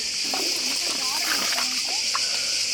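Cold water splashes and sloshes close by in a steady, noisy wash, with people talking over it.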